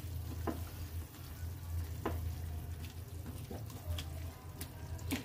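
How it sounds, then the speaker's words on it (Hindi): Gram flour balls being mixed into a curry in a pan, with a soft steady simmering sizzle and a few light spoon scrapes at intervals, no voices. "और इसको अच्छे से मिक्स कर देते हैं।"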